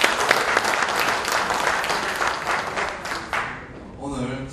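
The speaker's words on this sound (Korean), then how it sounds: "다시 한번 큰 박수 부탁드리겠습니다" Loud, dense applause from the assembly at a general meeting of an economic federation, greeting newly elected officers, sustained and then thinning near the end as a voice begins speaking.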